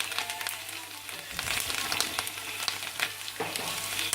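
Corned meat frying with onions and garlic in a pan, a dense, constant crackling sizzle with occasional stirring scrapes, close and fairly loud throughout.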